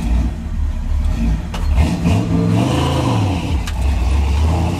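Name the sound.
1966 Chevy C10 engine revving at wide open throttle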